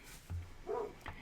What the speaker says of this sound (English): I'm sorry that you can hear the dogs barking.